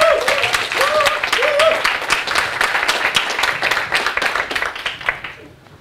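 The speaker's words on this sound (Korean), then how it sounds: "박수 부탁드립니다." An audience at a TEDx talk at Kyung Hee applauds as a speaker is introduced, a dense run of close hand claps that thins and fades toward the end, with a few brief vocal sounds at the start.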